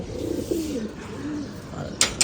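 Pigeons coo softly in low, rolling calls nearby, followed by two quick sharp sounds near the end.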